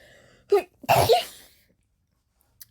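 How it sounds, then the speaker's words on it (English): A person sneezes once, with a short intake of breath followed by a loud burst, then quiet. "Oh, I gotta sneeze."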